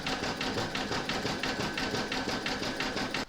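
An embroidery sewing machine satin stitching around the edge of a piano coaster, running a steady fast rhythmic needle chatter at even volume close up, stopping abruptly at the end.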